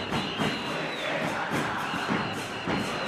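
Emelec supporters in a stadium crowd behind the goal at a 2012 Libertadores match against Corinthians, a loud, dense roar of chanting and cheering that carries on steadily throughout.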